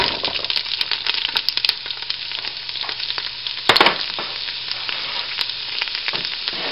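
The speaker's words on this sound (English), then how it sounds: "now we're going to go ahead and saute the onions" Onions sautéing in a pan for puchero, with chorizo already cooked in, give a steady close sizzle and crackle throughout, broken by scattered spoon scrapes and one louder stir clatter partway through.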